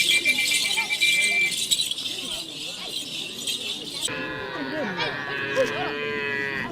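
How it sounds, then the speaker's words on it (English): Cattle and calves herded into a homestead, with repeated lowing and moos from several animals, near and far, over a busy background, with people talking throughout and a jangling metallic clatter. "The first cows, calves, are herded into the homestead."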